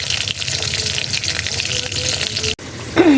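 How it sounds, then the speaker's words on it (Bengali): Fish sizzles in oil in a pan on a gas stove, a loud, steady frying hiss that cuts off abruptly near the end before a brief rising tone. "এখানে হলো মাছ ভাজা হয়ে গেছে"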